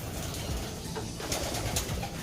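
A brown racing pigeon back at its loft cooing in low, repeated throaty calls, close and steady over a dense background of other pigeons and faint wing flutters.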